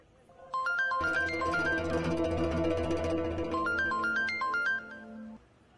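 A phone rings with an incoming call, playing a bright, stepped electronic ringtone melody that rises and falls over a fuller backing for several seconds, fairly close and clear.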